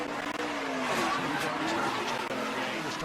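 An ARCA race car engine is heard on board with the throttle worked hard, a loud continuous roar with shifting pitch and revving surges, and a commentator's voice faintly underneath.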